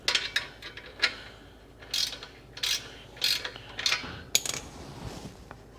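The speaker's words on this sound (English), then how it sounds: "Got to use ratchet screwdrivers." A hand ratchet screwdriver clicks in short bursts of rapid pawl ticks, about seven close, crisp bursts spaced by brief pauses, while a Capristo exhaust is fitted to a Mercedes-AMG G63 in a DIY install.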